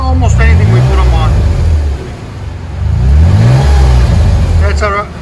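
A 2019 Toyota 4Runner V6 with a Black Widow Race Venom exhaust revs twice, deep throaty engine swells rising and falling, close and loud, with a voice talking over it.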